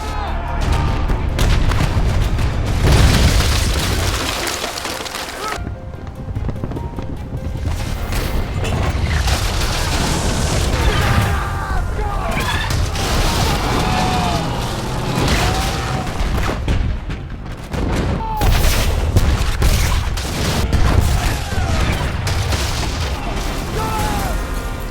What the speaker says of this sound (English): the British ships were continuously pounded by cannon fire